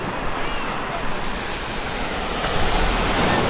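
Constant rushing surf from waves breaking along a beach, a broad, steady hiss that swells a little toward the end, mixed with light wind noise.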